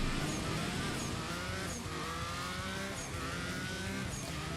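Race car engine from the CSR2 mobile drag-racing game roaring steadily under nitrous boost, a dense, loud, continuous drone with rising whine across gear shifts and no talk.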